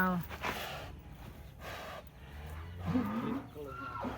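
A 17-month-old giant contest bull-type cow at a cattle show arena gives a low, breathy moo amid outdoor crowd noise, while someone talks close by.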